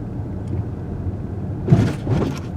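A car rolls over a rough road bump, giving a low thud followed by a second softer knock over steady road and cabin rumble.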